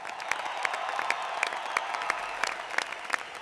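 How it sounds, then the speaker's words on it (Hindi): Loud, steady applause from a cheering crowd celebrating a tortoise's win in a jungle race, dense clapping filling the whole stretch with sharper individual claps standing out. "टोटो के लिए जोरदार तालियां।"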